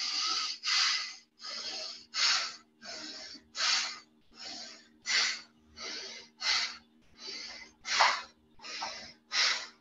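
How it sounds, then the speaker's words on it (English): Medium-sized breaths drawn through the nose during a breath-work exercise, about a dozen evenly paced airy inhales and exhales, close and fairly soft, with no talking. "medium-sized breaths that will sound like this"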